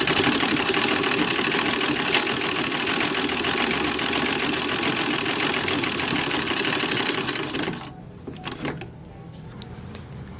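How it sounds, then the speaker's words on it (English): A sewing machine runs steadily and loudly for about eight seconds while sewing epaulets for a 1940s dress, its fast rhythmic motor hum cutting off into a few short stitches and light handling noises. "let's go ahead and sew some epaulets"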